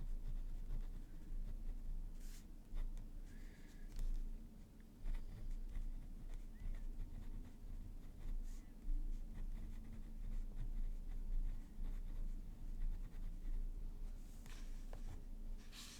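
Pen or brush strokes of ink scratching softly on paper while planners and journals are being set up, a steady quiet scribbling texture with intermittent light taps across the whole stretch, no talking.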